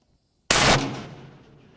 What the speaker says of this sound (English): We're gonna fire it off in the center of this bucket.